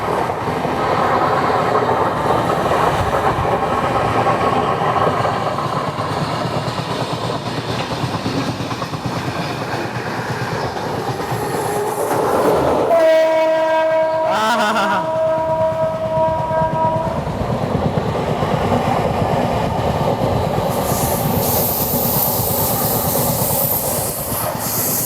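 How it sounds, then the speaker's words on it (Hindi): The Sachkhand SF Express rolls across an overpass above the Jhansi–Gwalior line, a loud, steady rumble with rhythmic clickety-clack and a brief hollow tonal whine midway, heard from inside the moving train. "सो अगेन हमारी ट्रेन ओवरपास करने जा रही है झांसी ग्वालियर लाइन को"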